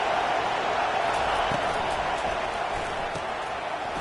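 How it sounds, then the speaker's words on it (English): Stadium crowd at a college football game, Duke at Texas A&M, a steady loud roar of cheering and noise filling the whole clip, with a few faint claps and shouts. "It's early, but this crowd is fired up. Listen to this noise here."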